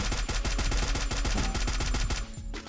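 Rapid automatic gunfire from a Free Fire-style mobile shooter game, loud, dense bursts of shots firing in quick succession throughout, easing off briefly near the end.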